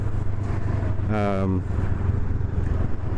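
A Honda Rebel 500 motorcycle is ridden, its engine a low, steady drone under wind rush, with a short voiced sound rising above it midway.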